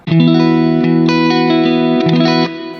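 A clean chord on a Fender American Standard electric guitar rings out and sustains with a touch of reverb, then fades slightly near the end; no voices.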